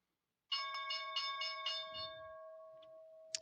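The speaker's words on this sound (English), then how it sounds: "Bell has rung." A bell strikes about six times in quick succession, then its bright metallic ring sustains and slowly fades, fairly close and clear with no talking.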